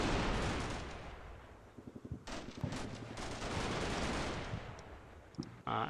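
Gunfire aimed at infantry in a war video game comes as rapid bursts of rattling shots over a constant rumbling battle din, with scattered distant cracks and a few louder reports near the end.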